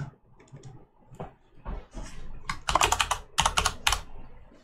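Keys on a computer keyboard are struck in quick clusters of clicks, starting sparse and building into brisk bursts of close, crisp typing.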